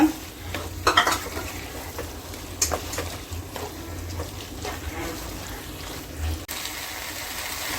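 Marinated squid being stirred into frying masala for a Tamil squid gravy: a soft continuous sizzle under clinks and scrapes of a spoon against the pan, with a brief muffled thump near the end.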